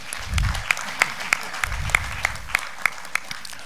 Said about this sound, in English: Please give us a clap a little bit here.